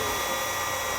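A power drill bores a hole in the painted body of a 1984 Volkswagen Vanagon at a slow speed, giving a brief, steady, close motor whir.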